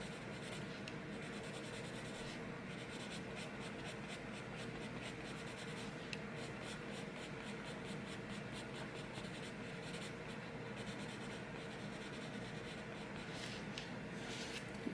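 A Prismacolor colored pencil rubs on paper with harder pressure, blending a salmon pink flower petal: close, continuous soft scratchy strokes in a steady back-and-forth rhythm, with no voices.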